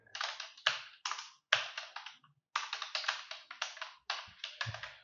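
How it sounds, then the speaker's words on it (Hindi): Keys on a computer keyboard are typed in quick clustered bursts, several runs of rapid keystrokes separated by short pauses, close and clear with no talking. "अब दूसरा टेक्स्ट फिर लिखते हैं।"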